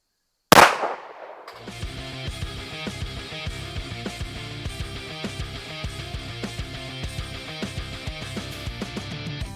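A PX-5.7 Raptor fires a single Fiocchi 5.7x28 high-performance tipped defensive round at a beef femur downrange. One sharp, loud report rings out briefly, then a steady rhythmic beat takes over.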